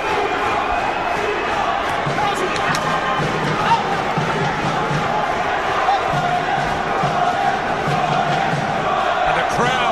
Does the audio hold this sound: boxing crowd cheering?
yes